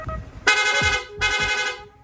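Two loud, close blasts of a rapid horn on a Yamaha Sniper 155 motorcycle, each lasting about half a second, separated by a brief pause.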